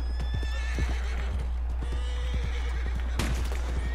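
Horses in a video game whinny and neigh loudly up close, with clip-clopping hooves and scattered game noises in the background.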